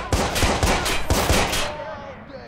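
Gunfire aimed at the player in Watch Dogs: a quick burst of about six or seven sharp, loud shots in rapid succession, followed by a fading echo.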